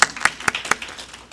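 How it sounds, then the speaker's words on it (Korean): A church congregation claps in short, fairly even rhythmic bursts, a handful of quick sharp claps heard close and alone. "박수 한번 해요."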